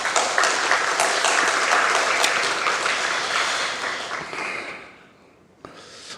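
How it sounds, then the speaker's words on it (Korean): A church congregation at a Korean Sunday worship service applauds the choir with steady, full clapping that fades away near the end, leaving a brief quiet with a single faint knock. "우리 모든 성도들이 찬양대원이 되는 그날까지 우리 박수로 한번 격려하십시다."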